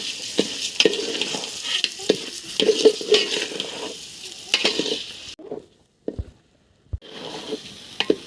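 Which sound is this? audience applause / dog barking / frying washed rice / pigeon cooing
frying washed rice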